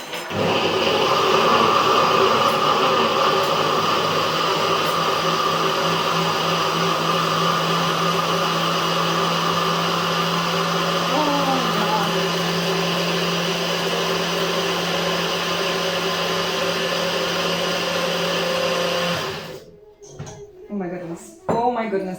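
A Nutribullet blender whirs steadily while blending gazpacho, a loud continuous motor drone with a bright whine that runs for about nineteen seconds, then stops abruptly, leaving a few clicks and handling knocks.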